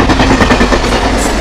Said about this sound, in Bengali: Ranaghat Sealdah passing through rail gate